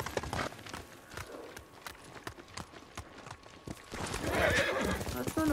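Close galloping hoofbeats drum quickly from a horse in the samurai video game Ghost of Tsushima, and a loud neigh breaks out near the end over the game's wind and ambience.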